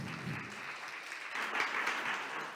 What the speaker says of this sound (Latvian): Providus direktore un vadošā pētniece Iveta Kažoka ar aplausiem